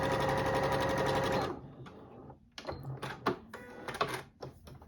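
A sewing machine fitted with a quarter-inch foot stitches quilt squares together in a loud, fast, steady whir, then stops, followed by scattered clicks and handling knocks of fabric and machine parts.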